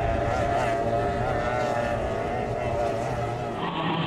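Formula 1 tunnel hull racing powerboat engines whine steadily at high pitch, a continuous loud drone from boats running at speed over water in New Zealand.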